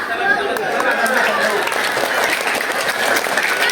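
A crowd at an Isra' Mi'raj religious lecture gathering claps in steady, dense applause for the full stretch, loud and close, with chatter mixed in.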